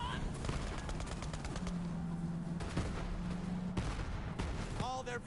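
Turret gunfire in a video game rattles in rapid bursts of close, repeated shots, mixed with droning tones and chirping effects, while voices talk over it.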